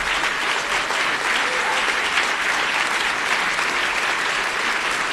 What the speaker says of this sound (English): please give them all the round of applause that they deserve